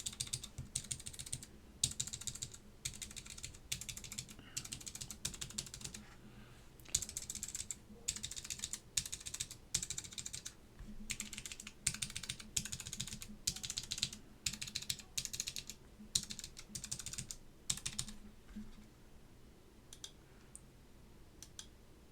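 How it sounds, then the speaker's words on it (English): A Baron Boards BP-One keyboard with Alps SKCM Orange switches is typed on in quick bursts of crisp, clicky keystrokes separated by short pauses, close and fairly quiet, with no talking. "let me just do a quick test of our spacebar really quick"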